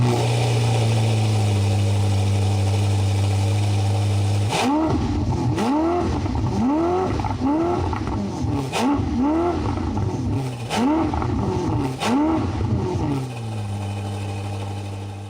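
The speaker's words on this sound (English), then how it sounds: "Take a listen to an exhaust rev or two from the SF90XX." Ferrari SF90XX supercar revving its exhaust, starting from a steady idle hum and then blipping in about six sharp, rising-and-falling bursts before settling back to idle, loud and close with no talk.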